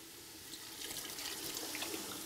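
Water poured into a cooking pan of tomato sauce for a Puerto Rican soup, a soft, steady splashing stream that runs quietly and continuously on its own.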